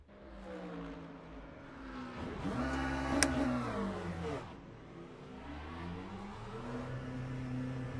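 A racing car engine in the Le Mans Ultimate sim game revs up to a peak and drops away, then climbs again, a sweeping rising and falling whine heard fairly quietly and alone.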